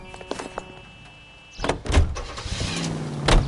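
A car in the video game L.A. Noire starts up and pulls away, a door thump and engine rising loudly after a quiet opening, with the motor steady to the end.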